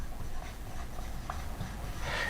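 Pen or marker writing out a sequence by hand: soft, close scratching and scraping strokes, faint and continuous, with no talking.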